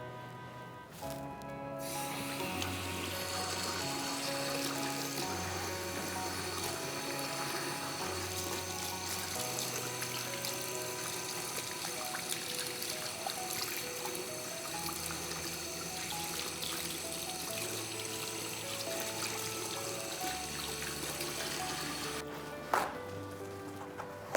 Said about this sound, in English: Washing your hands before preparing food is the best way to start out in the kitchen. Using warm soapy water helps to wash away bacteria and viruses.